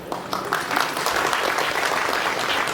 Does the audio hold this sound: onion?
no